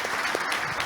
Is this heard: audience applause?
yes